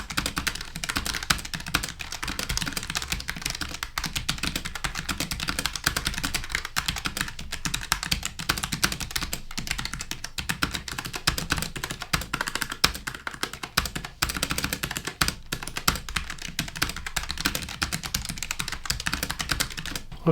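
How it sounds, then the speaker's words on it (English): Typing on a Logitech G915 mechanical keyboard makes a continuous, dense clatter of rapid, close-up keystrokes with no pauses, steady and moderately loud with no voices. "Let's bring over the Logitech G915, see how this sounds."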